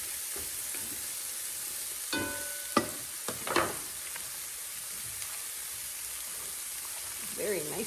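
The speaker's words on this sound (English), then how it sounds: "Keep moving the mushrooms around here." Mushrooms fry in a pan with a constant soft sizzle while a utensil stirs and scrapes them in a few short knocks, close by, with a person speaking at moments.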